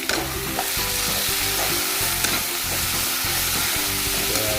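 Chopped tomato and ginger-garlic paste added to browned onions frying in a pan for a chicken curry, giving a loud, continuous sizzle with scraping stirring strokes throughout and no talking.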